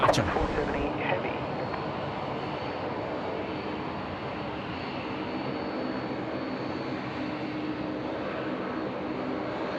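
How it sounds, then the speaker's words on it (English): A heavy airliner taxiing along a taxiway at Sydney Airport before departure, a sustained distant jet engine rumble and whine that starts with a brief louder burst and then holds steady, with voices speaking over it. "Beth and Corey travelling down taxiway Alpha now, getting ready for their departure"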